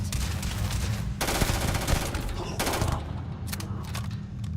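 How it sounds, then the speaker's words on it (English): A laser weapon fires in the video game Starfield, rapid bursts of harsh, crackling shots over a dense, loud game soundscape with a steady low rumble beneath. "The laser weapon did seem pretty effective, though."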